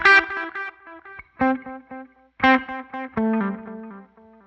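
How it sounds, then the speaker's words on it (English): Plucked electric guitar notes with strong delayed repeats piling up and lingering between phrases; no voices. "Let's turn the feedback up and the mix up just so we can hear it."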